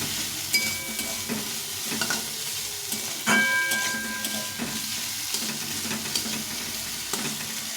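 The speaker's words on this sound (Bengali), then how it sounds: "আলুটাকে একটু ভেজে নেব।" Potato pieces frying in a pan for chickpea masala, a steady close sizzle broken by repeated scraping stirs and a few clinks of the spatula against the pan, with no talking.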